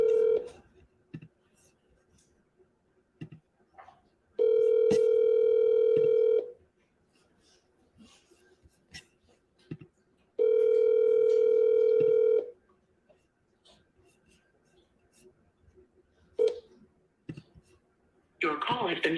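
Telephone dial tone rings out in two long steady blocks of about two seconds each, separated by quiet stretches with scattered keypad clicks and faint background noise, as a phone line is dialed repeatedly with no answer.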